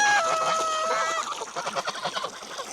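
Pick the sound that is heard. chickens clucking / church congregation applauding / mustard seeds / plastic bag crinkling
chickens clucking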